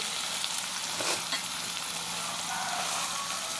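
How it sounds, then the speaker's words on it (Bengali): Sliced onions drop into hot oil in a pan, left behind after fried fish, and crackle into a steady, bright sizzle that holds for the whole stretch. A brief stirring clatter comes partway through, and no one speaks. "তো আমি পেঁয়াজগুলো ছেড়ে দিচ্ছি"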